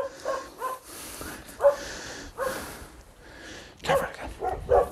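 A dog in a rural village setting gives several short yips and barks in uneven bursts, fairly close, separated by quiet pauses and some snorting, with no talking.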